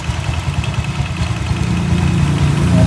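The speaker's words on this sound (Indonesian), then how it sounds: "Mesinnya panas dulu." A Honda Vario 125 motorcycle with a 180cc bore-up engine idles nearby, a steady, even low rumble with a faint vibrating edge that holds constant and swells slightly toward the end, with no voices.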